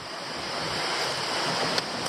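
Low creek water flows steadily on a hiking trail near Larapinta Falls in Queensland, a continuous broadband wash with a faint breezy texture and no voices.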